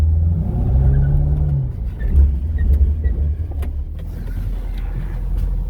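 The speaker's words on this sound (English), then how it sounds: "ABS active again, pretty normal." A 1998 Chevrolet Corvette with a 5.7L V8 and four-speed automatic brakes hard with ABS active, giving a close, continuous low rumble with faint pulsing and road noise.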